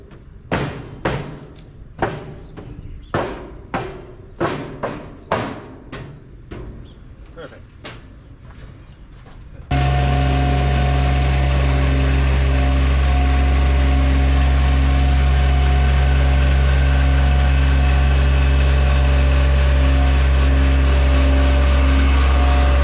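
A Bobcat MT100 mini skid steer drives up loading ramps, its engine droning loud, steady and close. Before the engine starts there is a series of sharp rhythmic knocks about once a second.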